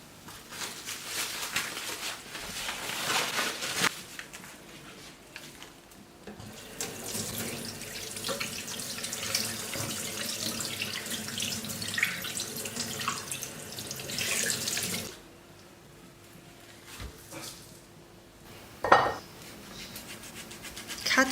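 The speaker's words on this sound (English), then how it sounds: "wash the ribs" A kitchen tap runs over pork ribs being washed, a steady splashing flow with clinks of dishes and bowls, a pause in the water partway through, then a sharp knock near the end.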